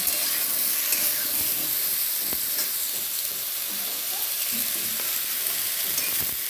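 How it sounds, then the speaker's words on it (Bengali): Cauliflower pieces fry in oil in a wok, giving a loud, constant, close sizzle and steamy hiss with occasional stirring clinks, and no voices. "ফুলকপিগুলো কড়াইতে ভাজিয়ে দিয়েছি ফুলকপিগুলো হালকা করে ভেজে নেব"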